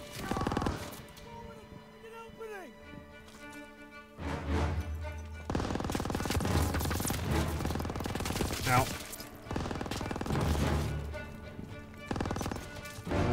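Gunfire in the World War II shooter Call of Duty WW2, with bursts and sustained volleys of loud automatic fire layered over game audio and shouted voices.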